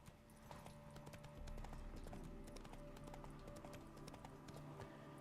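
Hooves of the horse Roach clopping steadily at a gallop in The Witcher 3, a continuous rhythmic drumming laid over game music and ambience, with no speech.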